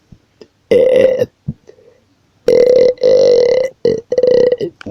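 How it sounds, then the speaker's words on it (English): A pet turtle with a burping problem lets out several loud, close, throaty burps in separate bursts with short silent gaps between them. "Burtle stopped burping for the moment."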